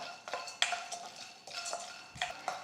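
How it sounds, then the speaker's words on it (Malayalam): Peanuts dry-roasting in a pan, stirred with a spoon, giving soft rattling scrapes and light clinks in an uneven rhythm, close and quiet with no talk. "അപ്പോൾ ഞാനിപ്പോൾ എടുത്തിട്ടുള്ള ഈ കപ്പലണ്ടി നന്നായിട്ട് ഇങ്ങനെ വറുത്തെടുക്കാം."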